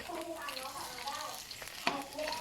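Tilapia fries in hot oil over a rising flame, giving a continuous close sizzle and bubbling with one brief clatter partway through.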